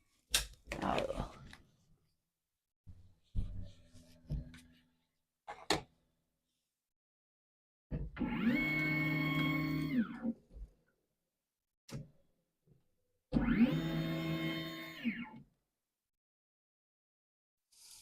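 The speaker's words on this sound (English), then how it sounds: "there you saw the resetting of the needle" An xTool laser engraver resetting its measuring needle, giving scattered clicks and ticks followed by two sustained mechanical whirring runs of a few seconds each, with talk in between.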